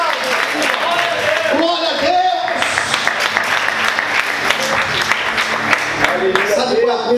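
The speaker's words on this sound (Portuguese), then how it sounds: "Você pode aplaudir Jesus por isso." A church congregation claps and cheers in a steady burst of applause, while a voice speaks and calls out loudly over it throughout.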